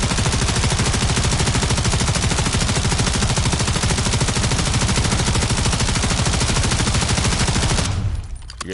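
Sustained automatic gunfire in Call of Duty MW3, a rapid, loud, unbroken stream of shots lasting about eight seconds before cutting off abruptly into a brief tail.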